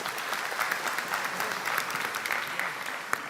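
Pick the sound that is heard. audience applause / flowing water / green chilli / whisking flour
audience applause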